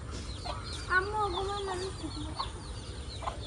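Chickens clucking close by, a short run of rising and falling clucks around the middle, with soft background noise and faint voices nearby.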